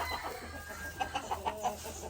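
A rooster being conditioned clucks in a rapid series of five or six short, moderately loud notes over a low background rumble, with no one talking.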